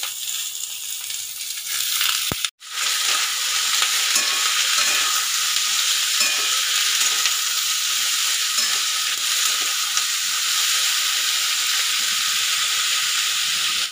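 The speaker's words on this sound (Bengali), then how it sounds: "পেঁয়াজটা আমার ভাজা হয়ে পেঁয়াজটা আমার হালকা রং এসেছে, দিয়ে দিতে হবে কেটে রাখা ঝিঙে।" Chopped ridge gourd dropped into a pan of lightly browned onions, then frying with a loud, steady sizzle that runs without a break after a brief dropout near the start, no voices.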